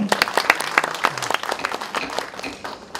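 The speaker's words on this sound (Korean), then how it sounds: "그러면 박수로 통과해 주시기 바랍니다" Members of a founding general assembly applaud to approve a motion, a short burst of crowd clapping that starts strong and tapers off over a few seconds.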